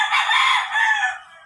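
A single rooster crows loudly and close, one drawn-out call lasting about a second and a half.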